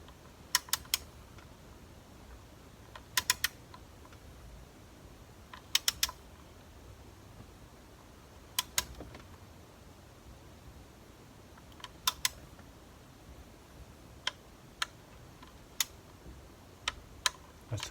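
A hand tool clicks while tightening inlet manifold bolts on a 2014 Holden Cruze during a leaking inlet gasket replacement, giving sharp clicks singly and in quick pairs or triplets over a steady background hiss.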